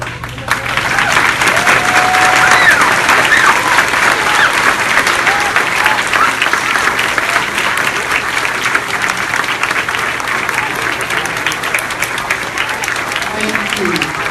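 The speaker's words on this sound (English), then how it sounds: "so that we can honor you with applause" Sustained applause from a large audience at a Veterans Day program, steady and full throughout after a brief start, with clapping filling the room for the whole stretch.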